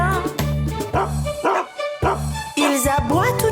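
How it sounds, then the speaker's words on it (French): Several dogs on a farm bark in repeated bursts, loud and close, with yips mixed in, set against a tuneful children's song backing. "Ils aboient toute la journée dans la drôle de ferme de Papy Henri"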